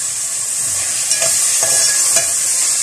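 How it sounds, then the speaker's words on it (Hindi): Potatoes, carrots and peas are stirred in a hot frying pan for a mixed vegetable dosa filling. A steady loud sizzle is broken by a few soft scraping strokes of the spoon. "अब इसके अंदर मैं ये आलू डाल दूंगी, गाजर भी डाल देंगे"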